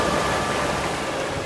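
Cartoon-style rushing waves surge around a wooden boat on a river at night, a dense, loud roar of water and wind that holds steady for a moment with no voices.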